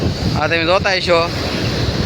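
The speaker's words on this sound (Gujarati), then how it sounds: "બહુ મોટા મોટા મોજા આવે છે." Big sea waves during a storm, a continuous loud roar of surf mixed with heavy wind buffeting the microphone, while someone speaks briefly over it.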